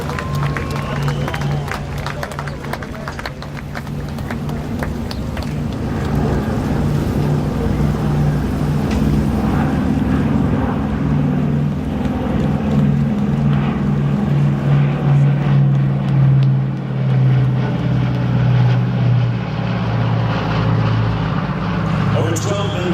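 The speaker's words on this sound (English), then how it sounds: "Ladies and gentlemen, here comes the B-29." A Boeing B-29 bomber in a World War II victory flyover above the Capitol: a deep, steady propeller drone swells over about twenty seconds beneath crowd noise and an announcer's talk.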